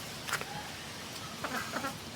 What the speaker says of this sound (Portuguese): aquele ali é um frango, não é uma galinha não